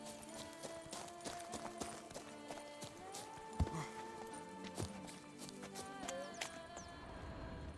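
Hooves clip-clop steadily from Roach, the horse in The Witcher 3, a faint and regular rhythm with a sharper knock near the middle, set against soft ambient game music and no talk.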